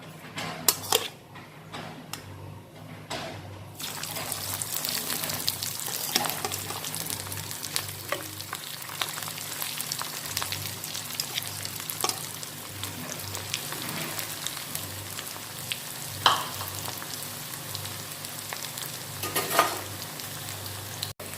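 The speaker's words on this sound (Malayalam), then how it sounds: "ഇനി നമുക്കിതൊന്ന് പൊരിച്ചെടുക്കാം. അപ്പോൾ നമ്മുടെ എണ്ണ ഇവിടെ ചൂടായിട്ടുണ്ട്." Cauliflower pieces for Gobi 65 frying in hot oil, a steady dense sizzle throughout with occasional stirring clatter, close and continuous with no talk.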